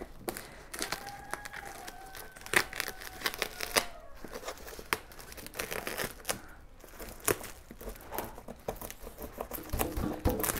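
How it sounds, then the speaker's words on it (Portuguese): Sticky plastic wrapping on a mailed gift package being cut and pulled open, giving steady close crinkling, tearing and rustling with scattered sharp snips and crackles throughout, no talk. "Agora vamos ver esse plástico aqui. Ele é um plástico que cola. Vou ter que cortar também."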